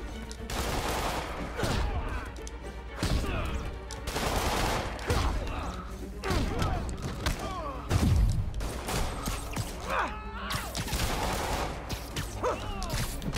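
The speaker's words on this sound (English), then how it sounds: "Who be shooting guns?" Dense, overlapping gunfire from a street fight in the Spider-Man PS4 video game, with repeated bursts, thuds and impacts running throughout over a steady game backdrop.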